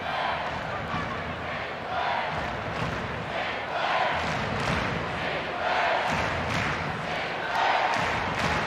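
A stadium crowd at a Portland Thorns vs. Orlando Pride women's soccer match, in a historic ground, chants and sings to the players as a dense, steady roar that swells and dips but never breaks.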